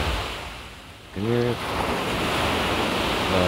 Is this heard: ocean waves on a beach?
yes